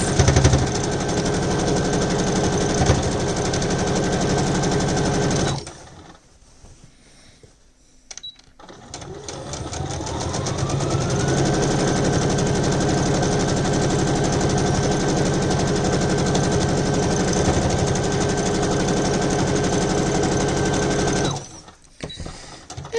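A sewing machine stitches around the edge of a fabric bag organizer in long continuous runs, whirring loudly and steadily, with a brief pause partway through before it starts up again.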